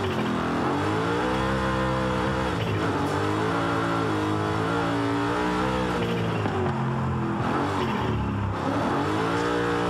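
A 750 HP twin turbo BMW E92 M3 in Forza Horizon 5 roars continuously under throttle, its engine pitch climbing and dipping through gear changes in a loud, close, unbroken drone.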